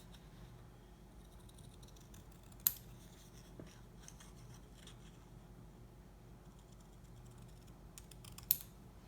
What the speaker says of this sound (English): grab my scissors and I'm going to cut these flaps off